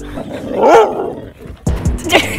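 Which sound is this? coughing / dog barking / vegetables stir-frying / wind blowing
dog barking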